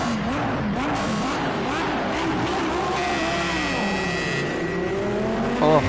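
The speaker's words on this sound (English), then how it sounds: "Oh, this car sounds so nice." Race car engine in a racing video game, a continuous loud whine with pitch sweeping up and down through gear changes, steady and close throughout.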